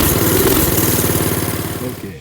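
A Coleman B200R mini bike's small engine runs steadily and loud throughout, a continuous rapid pulsing drone that holds its pace before cutting off abruptly at the end.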